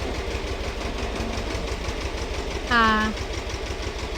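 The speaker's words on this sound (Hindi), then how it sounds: "बैकग्राउंड में जा रहा है ट्रैक्टर" Low, rhythmic chugging of a tractor engine running in the background, with a short spoken word over it.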